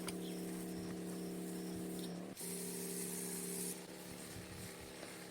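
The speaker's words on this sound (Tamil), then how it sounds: "மாதுளை செடியில் காய்ப்புழு இலைப்பேன் இருந்தது மாதுளைக்கு ஸ்ப்ரே பண்ணினோம்" A steady hissing spray of homemade organic camphor pesticide solution onto a pomegranate plant infested with fruit borers and leaf lice, continuous and close, with a brief pause midway and faint machine hum beneath.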